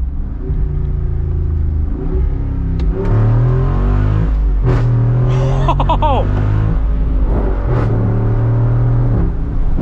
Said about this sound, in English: Let's try the manual shifts and hear this exhaust in all of its glory.